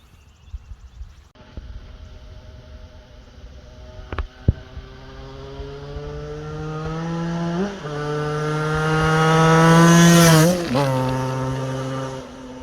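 Vintage Yamaha motorcycle with a swapped YZ85 two-stroke engine, first faint and far off, then a rising buzzy exhaust note climbing through the gears as it approaches, peaking loudly while riding past and falling away.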